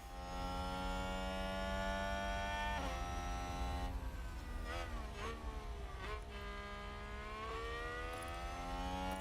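Several F1 Manager 2022 racing car engines in a video game race, a steady high-pitched whine that rises and falls as the cars pass and accelerate, with a constant background drone throughout.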